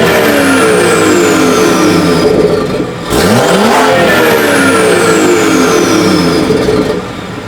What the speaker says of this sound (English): and then y'all hear the exhaust